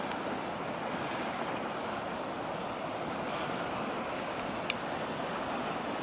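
Steady rushing of Dana Creek on Mount Dana in Yosemite, a mountain creek, continuous and fairly loud, with no voices.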